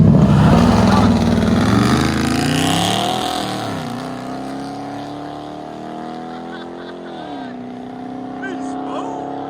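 A 2015 RAM 1500 pickup with a 5.7L HEMI V8 and true dual straight-pipe exhaust revs up loudly and then falls away as the engine winds down, with the rumble staying close and strong throughout.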